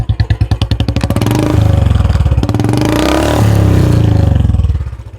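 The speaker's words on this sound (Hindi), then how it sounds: "अब इसका हाफ थ्रॉटल सुनाऊंगा।" A Royal Enfield motorcycle exhaust revved at half throttle, loud and close: a rapid thumping idle rising into a sustained throaty drone, then easing off at the end.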